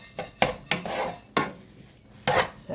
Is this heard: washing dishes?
yes